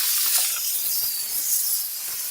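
A portable steam cleaner blasts steam over a stovetop in a continuous, loud, broadband hiss that holds steady with slight surges, with no talking.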